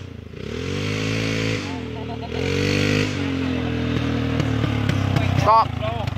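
A Yamaha motorcycle engine revs loudly and close, holding steady high-pitched throttle bursts with brief dips between pulls and a rattly clatter near the end.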